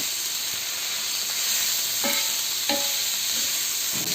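Onions and vegetables sautéing in a pan over medium heat for oats dosa batter, a steady close sizzle with a few stirring scrapes of the spoon around the two- and three-second marks.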